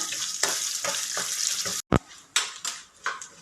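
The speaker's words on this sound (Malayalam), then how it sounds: "തേങ്ങ ഇട്ട് നമുക്ക് വറുത്തെടുക്കാം." Grated coconut sizzles and crackles as it fries in a hot pan for beef curry while a utensil scrapes and stirs in repeated strokes, with a brief metallic clatter partway through.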